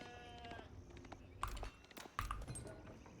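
Sheep bleat in Age of Empires IV, several short calls close together over faint game ambience, no talk.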